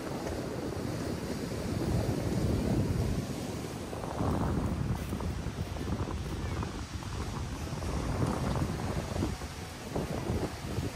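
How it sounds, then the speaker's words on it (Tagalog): Strong waves breaking on White Beach, Puerto Galera, a loud surging surf roar that rises and falls in broad swells, buffeted by wind on the microphone. "ang alon ay malakas"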